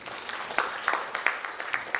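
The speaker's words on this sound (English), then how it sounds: "please welcome him with a huge round of applause" Sparse applause at a Future of L&D summit and awards event greets a speaker, with a handful of distinct, fairly loud claps landing irregularly over a thin background of scattered clapping.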